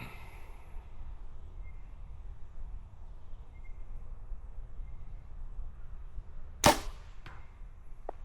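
Arrow loosed from an archery bow at a 3D archery range on a wood-chip-covered 46-yard shooting line, heard as a single sharp snap around the middle of the stretch followed by a fainter thud, over steady outdoor background with insects.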